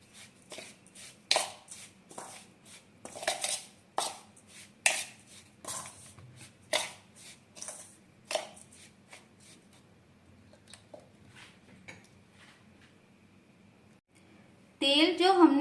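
A spoon scrapes and clinks steadily as chili powder and four spoonfuls of salt are mixed together in a bowl. Sharp, rhythmic strokes are loudest at first, then thin out, and a voice cuts in near the end.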